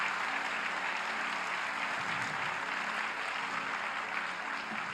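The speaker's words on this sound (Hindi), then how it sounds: "थोड़ी तालियां तो बजाइए, जोर से बजाइए" Applause from a crowd gathered at a devotional religious gathering, clapping steadily and densely for several seconds with an even, sustained wash of sound.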